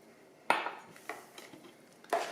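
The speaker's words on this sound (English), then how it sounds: "I'm gonna stir that." A spoon scrapes and clinks against a bowl while stirring cornbread batter with milk, a few distinct knocks spaced unevenly, close and fairly quiet with no talk.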